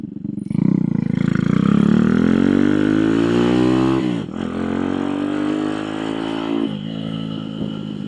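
An RPS Racer Nibbi PE26 engine revs hard on a test run, rising steadily in pitch to a loud peak, then dropping sharply before settling into a steady high rev, close and continuous with no talking.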